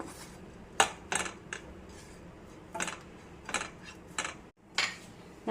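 A utensil scrapes and clinks against a pan as grated coconut dry-roasts without oil, giving about eight short, irregular strokes over a quiet background with no talking.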